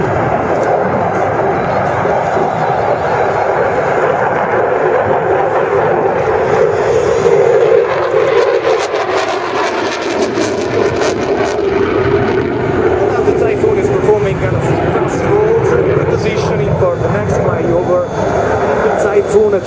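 An Italian Air Force Eurofighter Typhoon flies a slow, high-alpha demonstration at the Radom air show in 2013, its loud, continuous jet roar rising and swelling overhead while an announcer talks over it.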